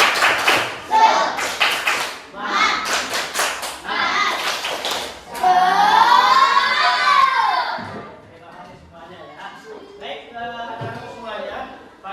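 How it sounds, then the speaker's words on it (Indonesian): A classroom of children performs a rhythmic spirit clap, short bursts of synchronized claps alternating with chanted shouting voices, followed by a teacher's voice and kids' chatter. "Oke, tepuk semangat."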